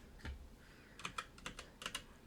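Typing on a computer keyboard: a quiet, close run of about eight irregular key clicks, mostly in a quick cluster, with no talking.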